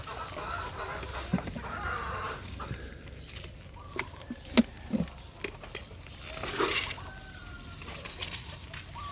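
Backyard chickens, including hens and breeder birds, clucking at a low level during rainy weather, with scattered soft calls and a few sharper squawks over steady background noise.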